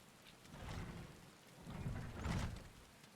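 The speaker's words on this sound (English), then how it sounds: "It's raining!" In the video game Final Fantasy XIV, rain falls steadily while thunder rumbles in two low rolling swells, faint and distant, with no talk over it.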